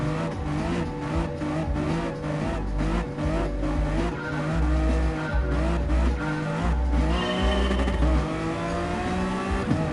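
GT Sport NSX Group 3 race car engine revving hard against the rev limiter, a loud, steady buzzing drone with repeated stuttering pulses as the limiter cuts in, alongside tire noise.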